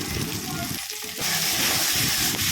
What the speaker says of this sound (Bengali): পেঁয়াজ দিয়ে চিংড়ি মাছটা কড়াইতে ছেড়ে দিলাম চিংড়ি মাছটা একটু ভাজা ভাজা করে নিতে হবে প্রথমে